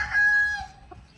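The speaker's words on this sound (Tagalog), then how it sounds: "Yan ang mga chicken." A rooster crows once in a single long, clear call that fades toward the end. Hens kept as stag gamefowl cluck faintly around it during bathing time.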